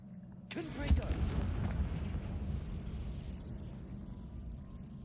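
Confringo fire spell exploding in Hogwarts Legacy, a sudden sharp burst followed by a rumbling decay that fades over several seconds, heard under quiet conversation.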